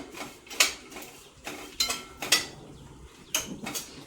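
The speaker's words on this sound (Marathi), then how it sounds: "आता मी त्यामध्ये खोबरं टाकते, थोडंसं चांगलं परतून घ्यायचं" Grated coconut being stirred and roasted in a pan for moong dal laddu, heard as intermittent scraping clinks of a spoon against the metal pan, several distinct strokes spaced irregularly, close and clear without talk.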